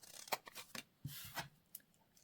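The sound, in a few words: scissors trimming paper tag corners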